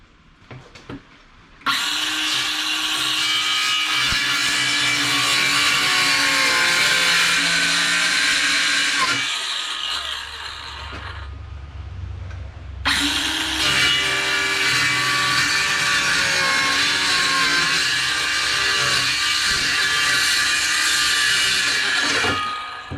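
A power drill whines loudly drilling screw holes through a camper wall in a long steady run, pauses briefly with a low hum, then drills again for another long stretch.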